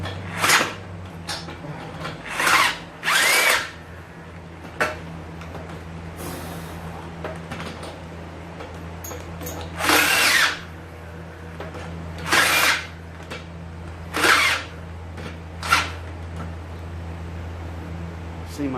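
A power drill fitted with a step bit whirs in short bursts, roughly eight separate runs of one to two seconds with quiet gaps between, close and fairly loud, with a steady low hum underneath.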